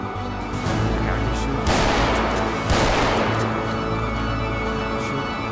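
Gunfire in GTA 5 roleplay, a dense run of loud shots with two heavier bursts partway through, layered over game noise with voices talking faintly in the mix.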